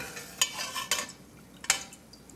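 A slotted metal spoon scoops pecans out of a pot in a home kitchen, giving a few distinct scraping clinks against the metal over a low background hiss.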